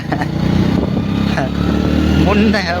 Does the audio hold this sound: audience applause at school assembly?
no